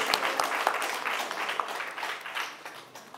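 Audience applause fills a press-conference room for an artist's Paris concert, a dense, steady patter of many hands clapping that carries on throughout and eases slightly toward the end.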